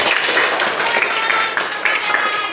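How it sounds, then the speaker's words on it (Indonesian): Schoolchildren clap together in a classroom during a lesson on differentiated learning, a steady dense wash of applause lasting a couple of seconds, with some voices mingled in. "Oke, tepuk tangan lagi"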